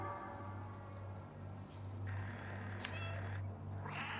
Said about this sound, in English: And you can meow through these cutscenes